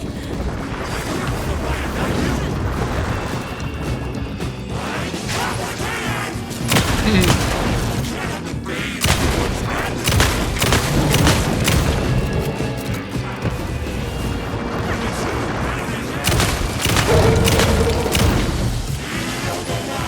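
Gunfire in Alan Wake 2, with repeated loud shots and booming impacts in rapid irregular bursts across the whole stretch, some clustered like volleys, over a dark rumbling background.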